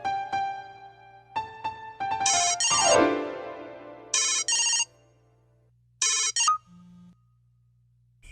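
A phone ringtone plays in a Bhojpuri film scene, loud and close, sounding in repeated melodic bursts with short gaps between them, alone with no talk over it.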